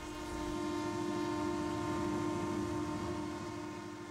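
Newfoundland Railway diesel locomotive 919 holds a long, steady horn-like drone with a rumbling train underneath. It is sustained and even for the whole stretch, with no talk.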